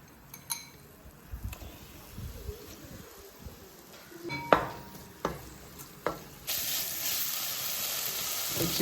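Chicken pieces go into a pan of sizzling ginger and garlic, frying with a steady hiss under stirring, scraping and light clinks. The sizzle swells loudly near the end.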